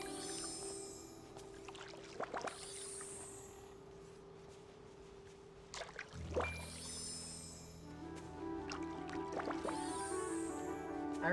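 Watering plants in the Disney Dreamlight Valley video game: soft splashing and pouring water sounds arrive in several short bursts, with chiming game tones layered over them and no talking.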